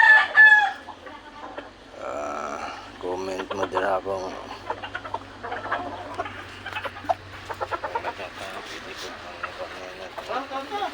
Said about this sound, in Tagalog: Pagkaon ka sa tong manok.